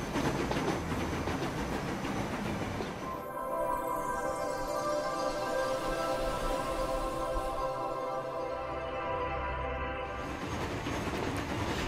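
Train running in the Transport Fever game, with a steady rolling rail rumble and tonal hum that holds throughout, brightening at the start and end and continuing without talk.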